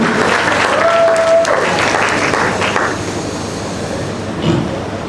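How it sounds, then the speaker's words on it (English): An audience at a SIWES workshop applauds their host, a broad wash of clapping that is loud at first and then gradually thins and fades, with a brief tone near the start and a faint voice toward the end. "Please put your hands together for him."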